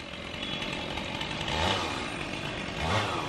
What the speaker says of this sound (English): that's what that chainsaw is